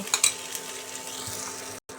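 Spices such as nigella seeds and asafoetida sizzle in hot white oil in a wok (kadai), a steady close crackling hiss with a couple of sharp clinks near the start and a brief drop to silence near the end.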